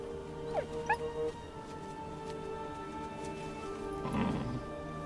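Wolves in Minecraft giving a few short whimpers and rising yips near the start, then a brief low growl toward the end, fairly faint over a steady background hum.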